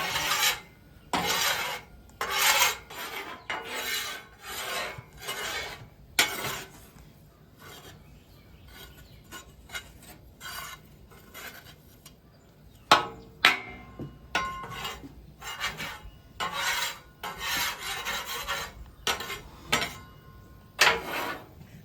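A metal spatula scraping and rasping across a Blackstone griddle while stirring a roux, repeated bursts of back-and-forth scraping in an uneven rhythm with short quieter gaps, close and fairly loud, no talking.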